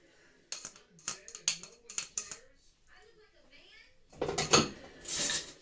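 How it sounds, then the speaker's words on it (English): A metal spoon folds flour into Victoria sponge cake batter in a bowl, giving a run of light clinks and taps on the bowl followed by louder scraping and knocking, with a voice partly audible among them. "So the metal spoon, I'm just going to fold until all that flour gets incorporated."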